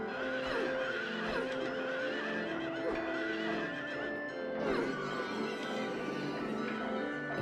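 An eerie carousel horse in Silent Hill 3 lets out drawn-out whinnies that rise and fall over a steady droning game backdrop, with no talk.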